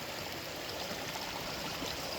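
A Scottish mountain stream in the Munros near Cruach Ardrain burbles and rushes quietly in a soft, continuous flow, fairly faint with no talking.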